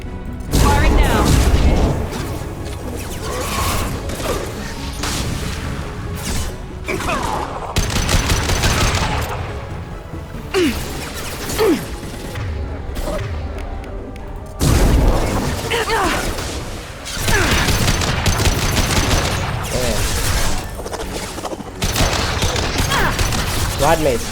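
Rapid gunfire and booming blasts from Mass Effect 2 played on Insanity difficulty, dense overlapping bursts sounding loud and nearly nonstop alongside game effects throughout.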